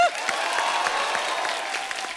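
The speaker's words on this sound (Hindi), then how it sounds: "पहले तो इसके लिए तालियां हो जाएं" Studio audience applause on a comedy show set, a dense, steady wash of many hands clapping that fills the whole short stretch at an even, fairly loud level.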